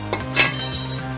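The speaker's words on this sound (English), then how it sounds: "just remove your caliper mount" Metal parts clink together as a car's front brake caliper mount is lifted off, a few short bright metallic clinks over a steady background hum, close and brief.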